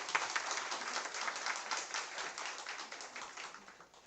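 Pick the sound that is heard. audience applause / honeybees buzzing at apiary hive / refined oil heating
audience applause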